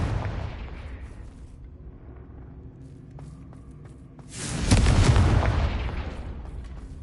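In Hogwarts Legacy, a Confringo fire spell bursts with a deep explosive boom that swells and rumbles, then decays, after a quieter stretch of low ambient sound.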